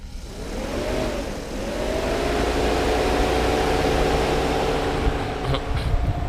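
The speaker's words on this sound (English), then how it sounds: "now this is low speed fan" The low-speed electric coolant fan of a Mercedes SL500 R129 whirs steadily up close, a continuous broadband rush with a faint rising tonal hum as it spins up, and a few light clicks near the end.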